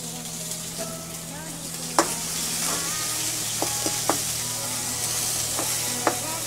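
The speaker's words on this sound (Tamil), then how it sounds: "ரெண்டு காஞ்ச மிளகாய் இருக்குது, அதையும் போட்டுடலாம்." Dried red chillies and chopped onion fry in a hot pan of oil for an eggplant chutney, giving a steady, close sizzle broken by occasional sharp utensil taps and scrapes.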